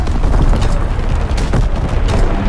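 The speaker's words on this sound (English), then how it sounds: "Artillery ready for orders. Waiting coordinates. Firing for full effect." Artillery strike explosions in the World War II shooter game Call of Duty: WWII boom loudly in a dense, rumbling barrage of overlapping blasts and crackling debris, close and continuous.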